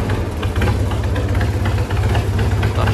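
An HMT 6522 tractor engine idles steadily at close range, a loud continuous low rumble with an even, throbbing pulse and no voices over it.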